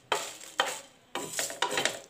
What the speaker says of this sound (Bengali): এটাকে একটু ভালো করে রোস্ট করে নিতে হবে, একটু ভাজা ভাজা করে নিতে হবে।